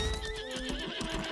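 In the Lost Ark video game, a horse lets out a loud, close whinny with a wavering pitch over a steady clip-clop of hooves, with no voices.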